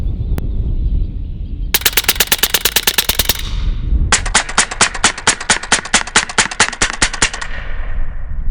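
A .30 caliber Western Sidewinder firing slugs at a range: two long strings of rapid, evenly spaced, very loud shots from close by, separated by a brief pause.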